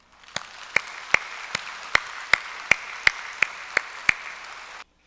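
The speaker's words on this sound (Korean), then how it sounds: "우리 권 목사님 나오실 때 큰 박수로 우리 격려 한번 하십시다" A church congregation applauds at a Sunday service, with about ten loud, evenly spaced claps over a quiet bed of scattered clapping before it cuts off abruptly.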